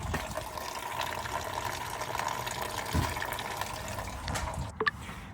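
Coolant from a 1990 Ford F150 radiator runs steadily into a drain pan with a continuous trickling, gushing flow, and a couple of small metallic knocks come near the end.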